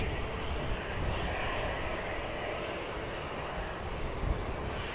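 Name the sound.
EasyJet airliner descending to land at Manchester Airport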